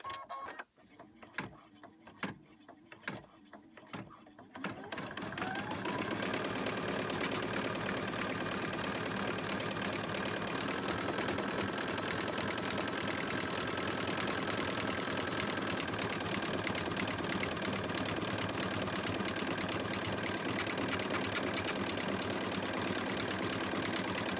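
After a few light clicks and taps, an embroidery machine stitching a face mask design with a newly replaced bobbin starts up and runs with a steady, loud mechanical whir and rapid needle chatter that carries on unbroken.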